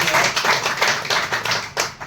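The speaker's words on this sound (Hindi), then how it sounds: "ताली इनके लिए बनाइए।" An audience claps at a motivational business talk in a hall, with a brisk run of overlapping hand claps that swell and dip in quick pulses for about two seconds. No voices are heard.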